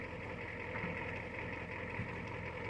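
An excavator engine runs steadily on raw off-grid land in Alaska, a continuous loud mechanical drone with low rumble and a few knocking bumps, no talk.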